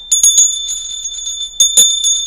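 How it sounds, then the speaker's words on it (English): A bell rings in two quick bursts of repeated strikes, bright and close, with a sustained ringing tone between them. "The bell has rung."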